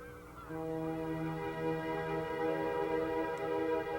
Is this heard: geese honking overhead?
yes